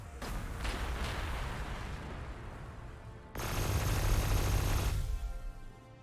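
Sustained gunfire and heavy weapon bursts in the strategy video game Warhammer 40,000: Gladius, a dense, continuous barrage that swells louder in the second half before cutting off.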